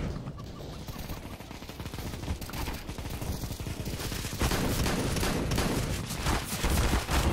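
Dense gunfire fills a Counter-Strike: Global Offensive round on the Inferno map, with rapid overlapping shots and bursts that grow louder toward the end, alongside shotgun fire.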